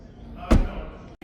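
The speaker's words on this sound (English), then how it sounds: "So let's shut this door, we'll go to the other side next." The car door of a 2026 BMW M340i xDrive shuts with a single solid thud, close by, followed by a brief quiet.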